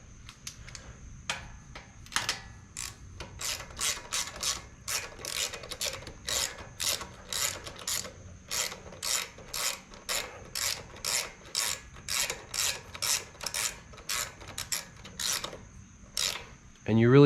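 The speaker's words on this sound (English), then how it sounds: "I'll just do the last little bit with the wrench" A ratchet wrench snugging a spark plug into a Kohler ECV650 engine on an Exmark Turf Tracer mower, a long run of short, evenly spaced metallic clicking rasps, close up and fairly steady.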